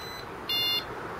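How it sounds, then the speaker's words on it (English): A single short electronic beep from a motorbike alarm with the seat removed sounds once, clear and high-pitched, against quiet background hiss. "that extra beep you're hearing is because the seat's off on the bike"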